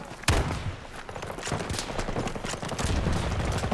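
Rapid bursts of gunfire from a shooting video game, with a loud shot near the start and then continuous sustained firing and impacts throughout.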